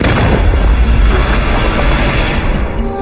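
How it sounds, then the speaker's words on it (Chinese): A grenade explodes in a war film battle scene, producing a heavy, sustained booming roar with deep rumble that fills the whole stretch loudly before easing slightly at the end, with no talk. "雷神赶紧冲过去，想捡起手雷扔出去，但安然却把他推开，用身体压住手雷"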